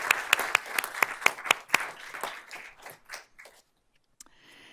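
Applause at an awards event, beginning as a handful of sharp, close, individual claps, then thinning out and fading to near silence, with a few stray sounds at the very end.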